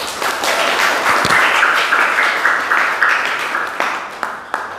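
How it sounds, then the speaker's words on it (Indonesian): An audience applauding after a speaker finishes at a talk, a steady crowd clapping held for several seconds and fading slightly toward the end, with a few louder individual claps near the close. "Aplaus."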